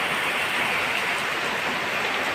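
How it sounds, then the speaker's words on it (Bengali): Heavy rain pours down steadily, a dense, continuous hiss of drops on surfaces close by, with no voices over it. "কী পরিমাণ বৃষ্টি হচ্ছে"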